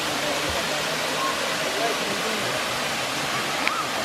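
Near Ella in Sri Lanka, a waterfall pours in a dense, unbroken hiss and roar, close and steady throughout, with only faint small sounds showing above the rush.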